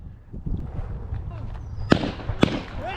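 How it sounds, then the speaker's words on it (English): A gunshot near a fishing spot, heard as two sharp, loud cracks close together near the end. Talking and outdoor movement run underneath the shots. "A gunshot suddenly cracked through the area."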